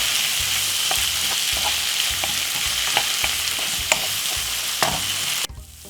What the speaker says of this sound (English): Give it a fry up like this for about 5 seconds. I'm gonna give it a lovely stir.